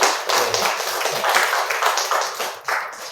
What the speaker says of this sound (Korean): 여성분들을 향해서도 박수 쳐주세요.